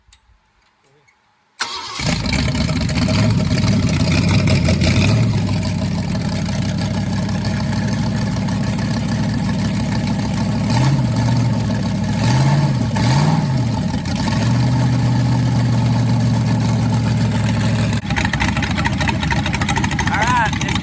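A rebuilt Ford 289 V8 engine cranks, fires up and settles into a loud, steady idle close by, its deep rumble running unbroken with slight revving and a few whirring changes, under occasional talk.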